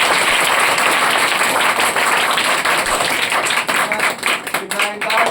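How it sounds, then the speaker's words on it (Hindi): A classroom of children bursts into loud, dense clapping, a sustained wash of applause that thins toward the end, with voices mixed in. "इसके लिए जोरदार ताली।"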